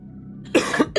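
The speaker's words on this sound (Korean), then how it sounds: "서로 기침해." Two or three sharp, close coughs burst out in quick succession after a brief quiet moment, loud and abrupt with a slightly raspy throat-clearing edge.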